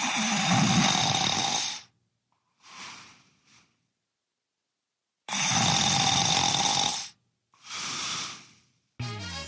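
A man snores loudly in his sleep, two long heavy snores each followed by a softer, shorter breath, recorded close by with quiet gaps between.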